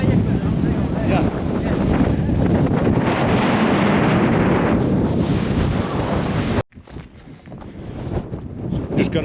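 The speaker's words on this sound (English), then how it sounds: "Just got all that wind." Strong wind buffets the microphone on the open hilltop of Pendle Hill, a loud continuous roar that cuts off abruptly to a quieter, gusty rumble.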